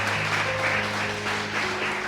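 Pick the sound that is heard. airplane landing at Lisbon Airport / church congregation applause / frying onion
church congregation applause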